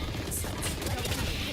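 Rapid gunfire from the video game Valorant, bursting in quick succession across a brief stretch of loud, busy game audio.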